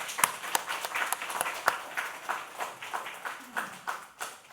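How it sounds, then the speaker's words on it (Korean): Church congregation applauding during a Sunday service: a quiet, scattered patter of hand claps sustained for a few seconds, with no voices. "박수 한번 보내주십시오."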